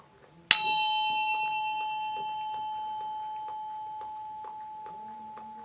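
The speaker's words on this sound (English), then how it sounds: "I'm going to use my bell, and then I'm going to lower it" A single bell is struck once over a bowl of incense ingredients, ringing out with a bright, clear tone that lingers and slowly fades over several seconds.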